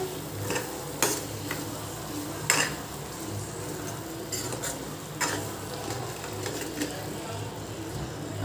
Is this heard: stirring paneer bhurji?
yes